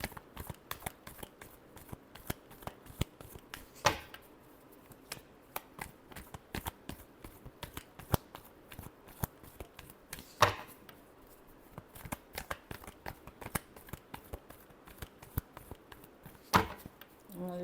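Tarot cards are shuffled in a long run of quick, crisp riffling clicks, close and fairly quiet, with a few sharper slaps of the deck along the way.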